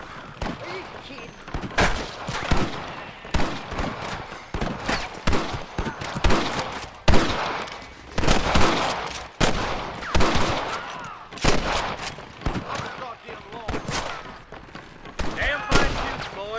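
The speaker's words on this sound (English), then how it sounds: "Damn fine shooting, boys." Repeated gunshots ring out in a Red Dead Redemption 2 shootout, sharp cracks firing in irregular bursts for the whole stretch, loud and close, with scattered voices shouting between the shots.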